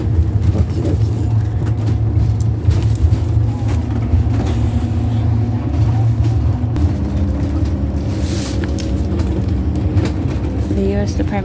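Cabin noise while riding inside a moving ambulance: a constant low road rumble and drone with faint rattles and shifting tones, heard throughout and without clear speech.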